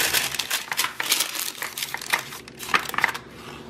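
Parchment paper crinkles and rustles as it is laid over puff pastry in a tart tin, a string of close, crisp crackling bursts with no talking.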